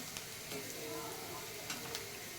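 Chopped onion sautéing in a pan while a spoon stirs it, a steady soft sizzle with faint scraping, steady and close, no talk.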